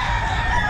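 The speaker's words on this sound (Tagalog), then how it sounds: "Ang daming manok." Chickens cluck and roosters crow together in a dense, continuous din at a crowded pet market in Bocaue, Philippines, with no pauses across the short stretch.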